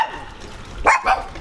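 Dogs at a home with many dogs give two short barks in quick succession, fairly close and moderately loud, over faint background noise.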